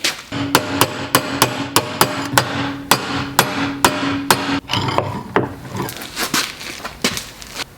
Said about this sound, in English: I'm going to actually try and beat it around this vise